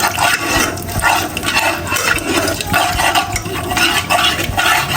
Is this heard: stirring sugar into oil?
yes